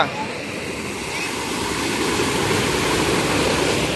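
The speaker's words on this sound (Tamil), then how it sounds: "செமையாக தண்ணி போயிட்டுருக்கா" Water from a stream rushes along strongly outdoors, making a steady, loud broadband roar that holds throughout without a break.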